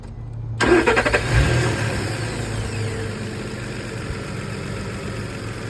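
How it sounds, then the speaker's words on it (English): A Nissan Frontier engine cranks and fires after a fan clutch replacement, surges briefly, then settles into a steady idle with a constant fan whir, close and fairly loud. "I'm gonna turn it on and I rev it up a couple of times so you can see the difference"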